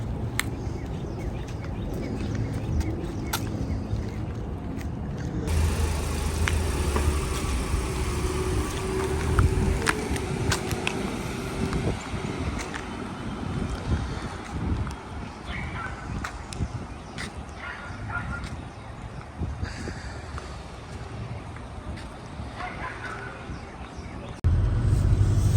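A car drives out of a residential community near Atlanta, its engine and road rumble running steadily and fairly close throughout, with occasional faint sounds in the background.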